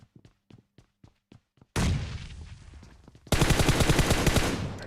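Bombs dropping in PUBG: a string of short sharp cracks, then two heavy roaring explosion bursts, the second louder and sustained to the end, with no voices.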